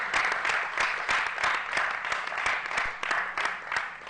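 An audience claps for a young guitarist at a comedy show, with sustained, dense applause that is close and loud and carries a few faint voices.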